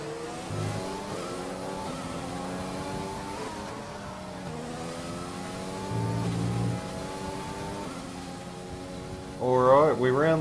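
A race car engine in an esports racing game rounding the final corner, revs rising and falling through gear changes, with a commentator talking over it.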